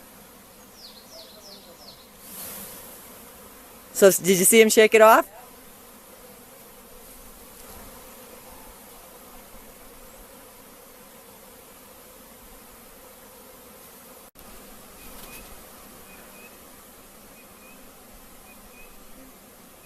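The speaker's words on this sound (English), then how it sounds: "But look at all the bees." Captured bee swarm buzzing during a hive-box capture, a steady low hum throughout with a loud burst of activity for about a second, while a person talks over it.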